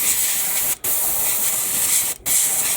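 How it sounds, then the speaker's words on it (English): An airbrush sprays green paint onto the interior of an Airfix 1/72 B-17G model kit, a steady close hiss broken by two brief pauses where the trigger is released. "Spray it on right here. Tiny little bit of green still coming out."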